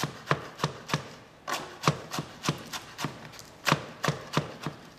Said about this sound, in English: you could literally cut this as thin as you want